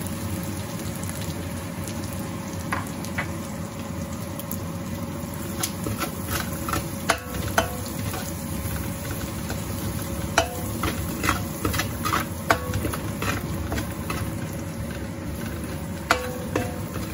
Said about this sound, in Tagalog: Ngayon, mag-gisa na tayo.